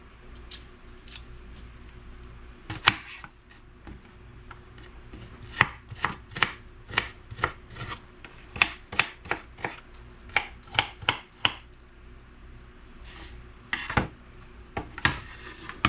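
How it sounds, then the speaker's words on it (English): Knife chopping frozen meat into small pieces on a board for meatloaf, a steady run of sharp, close chops, sparse at first then quickening into a rapid rhythmic series with brief pauses, no talking. "Try to cut it up as small as you can"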